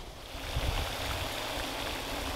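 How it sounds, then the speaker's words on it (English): A small water fountain splashes into a pond in a Florida botanical garden, making a steady, close, continuous hiss and patter of falling water with no talking. "Little water fountain here on this side and part of this little pond."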